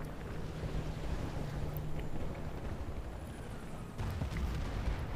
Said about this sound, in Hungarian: Próbálkozunk meg megint a csónakkal.